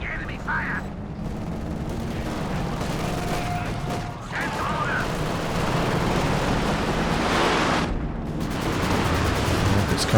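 Artillery and gunfire in a Company of Heroes 2 battle form a dense, continuous wash of booms and crackling shots. The rumble is loud and sustained, and intermittent speech runs over it.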